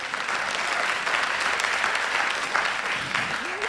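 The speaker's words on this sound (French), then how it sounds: "Est-ce qu'on peut donner encore une main d'acclamation?" A church audience applauds graduates in a dense, continuous wash of clapping, loud and even throughout, with a brief high squeak near the end.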